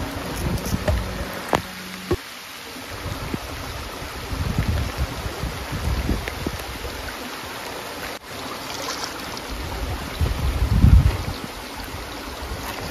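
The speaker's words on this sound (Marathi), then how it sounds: "जोरदार मित्रांनो पाऊस आला बघा।" Heavy rain falling at a campsite, a steady broadband rush with wind buffeting the microphone, swelling louder in bursts near the middle and end and dipping briefly after a sharp break early on.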